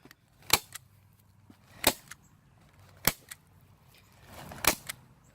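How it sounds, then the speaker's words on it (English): A staple gun fires four sharp, close snaps at spaced intervals, stapling plastic wrap onto a 1x2 wooden board for a shadehouse, each crack clear against a quiet background. "I'm just going to staple gun this"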